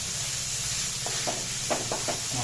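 Small holly carp fry in a pan, producing a steady hissing sizzle with a handful of sharper crackling bursts toward the end and no talk.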